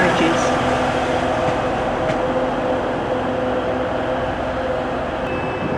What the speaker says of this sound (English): We're about to board this train now. This is 150-116.